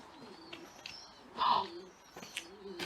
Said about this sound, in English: Pigeons in the holes.